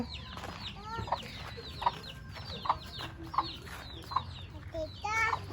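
Several short chicken clucks arrive in an irregular rhythm over a steady low rumble, with busy farmyard sounds in the background.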